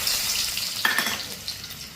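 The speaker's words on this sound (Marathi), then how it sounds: "ह्याच्यामध्ये मी टाकत आहे एकदम बारीक असा चिरून घेतलेला लसूण" Finely chopped garlic dropped into hot oil for a tadka sizzles sharply, a bright crackling burst up close that settles into a steady fry with a faint stir and utensil clink.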